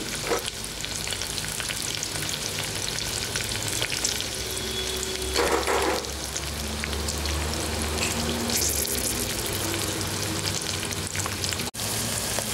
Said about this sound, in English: And next these are green chilies. Fry them.